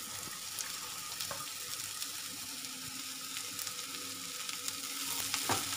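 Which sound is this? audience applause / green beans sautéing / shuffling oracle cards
green beans sautéing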